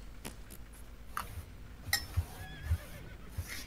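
A horse whinnies in the online fantasy game Albion Online, a few thin neighs rising over faint hoof clops and soft clicks, fairly quiet and with no talk.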